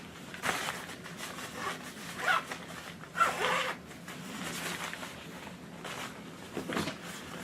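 A zipper on a packing cube being pulled open in several short bursts, with quieter fabric rustling in between. It is heard close and alone, with no talking.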